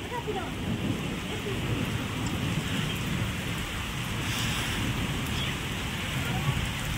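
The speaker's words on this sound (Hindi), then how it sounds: "बरसती बारिश में ओ तेज आ गई तेज आ गई" Heavy rain pours down in a steady, dense hiss, a continuous wash of falling water with faint voices underneath.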